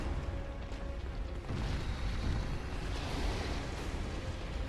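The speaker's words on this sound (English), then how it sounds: "Big explosion, so it backed up." A big explosion in the video game Bloodborne during the Ailing Loran boss fight, a sustained low roaring blast that rumbles broadly and stays loud throughout without speech.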